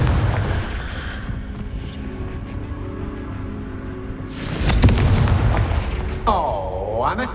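A Confringo blasting spell from the video game Hogwarts Legacy lands as a loud booming burst near the middle, over a rumbling game soundscape with a later whooshing magical effect.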